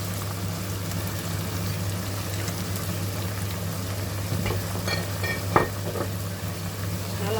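Pork with fresh chili stir-fried in a pan, a constant even sizzle with a low steady hum underneath and a couple of brief scraping stirs near the end, no talking.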